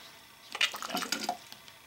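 Water drawn through an MSR TrailShot pocket water filter gives short, close, irregular gurgles and squirts, coming in a quick uneven burst of watery sputters.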